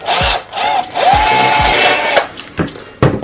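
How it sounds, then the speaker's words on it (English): A power drill whirs loudly in bursts, boring through a Nike Air Force 1 shoe, its motor pitch rising and falling as it bites through, with brief pauses and knocks. "I go on the other side and I drill back through again"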